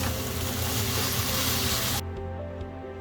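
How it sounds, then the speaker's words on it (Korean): Bean sprouts stir-frying in a hot pan with noodles and egg give off a loud, dense sizzle that suddenly drops to a quieter hiss partway through, with no talking. "마지막으로 숙주를 넣고 숨이 살짝 죽을 정도로만 볶아줍니다"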